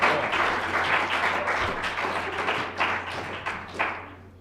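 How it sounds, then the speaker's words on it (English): An audience applauds debate panelists at a politics event, with dense, even clapping that stays strong before thinning into a few scattered louder claps toward the end, close and filling the room. "please give a round of applause to our panelists"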